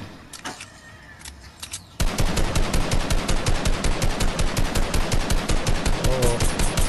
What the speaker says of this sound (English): You shooting at them?